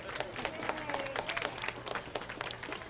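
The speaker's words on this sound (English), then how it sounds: "Give your parents a nice round of applause." A crowd of families claps at a scholars' reception, honouring parents, in a steady burst of applause with scattered sharp claps, fairly close, all the way through.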